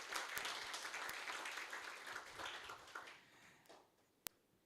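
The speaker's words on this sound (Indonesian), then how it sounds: "Aplaus dulu." Applause from an audience at a student welcoming ceremony, steady and fairly distant, fading away toward the end, with one sharp clap near the close.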